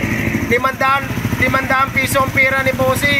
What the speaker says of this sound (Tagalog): Ayun mga boss, tahimik na ang motor ni sir.